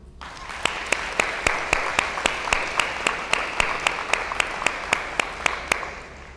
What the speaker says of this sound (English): please give a round of applause to Dr. Abidel Hutchinson and Dr. Adam Gelhausen.